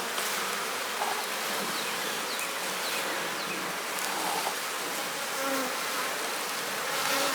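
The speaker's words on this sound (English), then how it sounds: "I got bees climbing all over the side of this box" Honey bees swarm over the side of a hive box during colony equalizing, a dense, steady buzzing that fills the air close by without pause.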